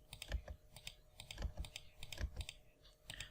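Keys pressed on a computer keyboard while working in AutoCAD, a quick irregular run of close, crisp clicks and taps with no voice over them.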